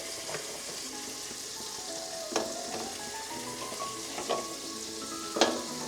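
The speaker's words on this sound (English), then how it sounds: "So all these beautiful quahogs are gonna go in the boiling water and they're going to cook and open." Quahog clams cooking in a pot of boiling water, a steady bubbling, sizzling roil with a few brief louder pops and clinks, close and continuous, with no talking.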